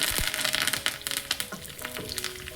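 Mustard seeds, two dried chillies, crushed garlic and curry leaves crackle and spit in hot oil, a close, dense spatter of pops and sizzling with no talking.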